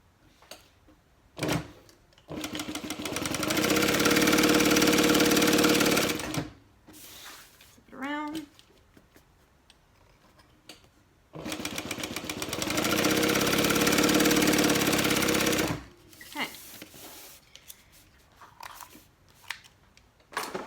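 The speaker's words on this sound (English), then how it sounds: "I'm not going to sew the short end, just the long ends." A sewing machine runs two long steady stitching passes down the long edges of an everyday tote bag, each lasting several seconds. Short clicks and brief handling sounds fall between the passes.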